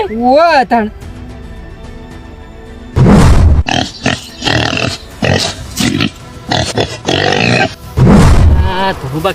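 Wild boar letting out rough, loud grunts and snorts in a couple of heavy bursts, with people talking and shouting around it close by.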